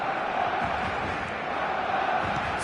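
Steady crowd roar from the stadium in the eFootball 2025 football game, a continuous, moderately loud wash of cheering without distinct peaks, with no commentary over it.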